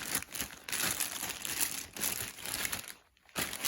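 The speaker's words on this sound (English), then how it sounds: "So let's unwrap it." Plastic packaging around a pair of Revgear Pro Series MS1 MMA gloves crinkles and crackles continuously at close range during unwrapping, with a brief quiet pause near the end.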